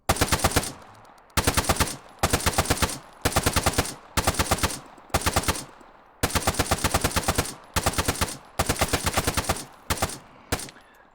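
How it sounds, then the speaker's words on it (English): An AK rifle fires full-auto in Arma 3, a loud, close series of about ten rapid bursts separated by brief pauses, no talking. "And then it's got the full auto."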